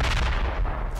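A grenade explosion in the military video game Project Reality, one heavy booming blast that fills the whole second with deep rumble, loud and close.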